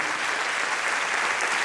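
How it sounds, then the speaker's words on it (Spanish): Dense, steady audience applause for Javier, a harpist about to play at a live event in Jalapa; continuous crowd clapping throughout with no voices. "quiero que le demos un aplauso muy grande"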